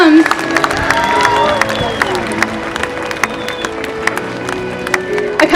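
An audience at SeaWorld San Diego claps and cheers for Ikaika, a 28-year-old killer whale, during an orca encounter show. Scattered applause and crowd noise build and fade over a busy outdoor backdrop, with an announcer talking through it.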